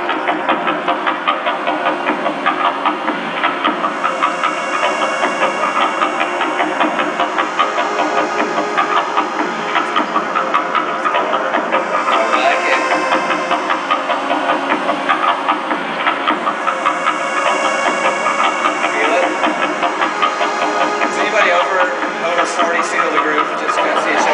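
Millisecond pulsars turned into sound from radio recordings form a dense, steady, buzzing drone that rises to full loudness, with fast pulsing textures layered over it. It plays on without pause and no voice is heard.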